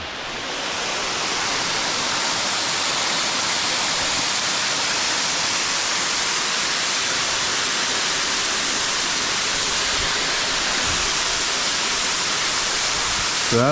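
Water pours steadily over a small dam spillway near Horseshoe Dam in Arizona, a loud, continuous broadband rush with no breaks.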